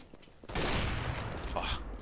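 A sudden loud burst of gunfire in Counter-Strike: Global Offensive on the map Mirage kicks in after a quiet start, a dense volley of shots that keeps ringing on to the end.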